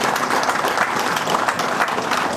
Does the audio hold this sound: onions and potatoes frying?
no